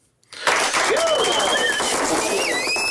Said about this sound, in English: He gave himself his own applause.